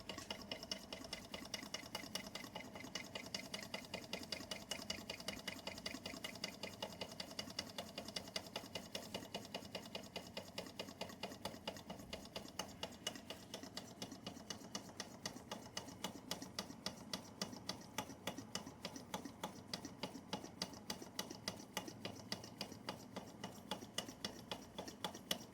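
A vintage Bing 10/110 poppet valve steam engine runs at low boiler pressure, ticking in a fast, even mechanical rhythm, faint and continuous throughout.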